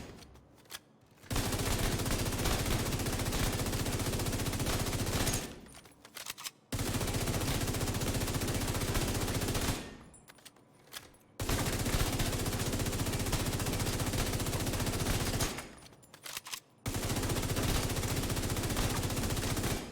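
FAMAS assault rifle fire in The Division 2, heard as loud sustained bursts of rapid automatic shots, about four seconds each, broken by short quiet pauses.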